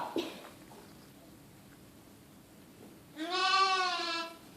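A single wavering sheep bleat rings out clearly after quiet background noise, preceded by a faint brief sound near the start.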